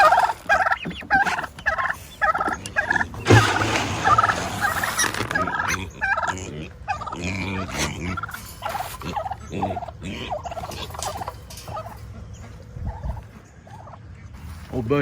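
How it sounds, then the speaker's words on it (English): A farm flock of turkeys gobbles loudly and repeatedly close by, the calls overlapping in ragged bursts against outdoor background noise. "We got the farm herd, but it's like a bird herd."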